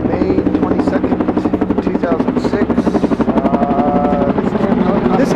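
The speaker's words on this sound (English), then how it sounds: "a helicopter hovers about 100 feet above the neighbor's house" A helicopter hovers overhead at close range, its rotor beating in a loud, steady rhythmic chop that lasts the whole time, with faint voices partly under it.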